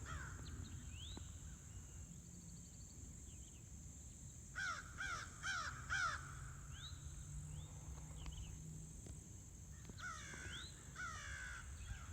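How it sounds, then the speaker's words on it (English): Several crows caw in short bursts, some calls clustered around the middle and near the end, moderately distant over a quiet outdoor background at Rock Springs Run State Reserve. "Some crows flying in."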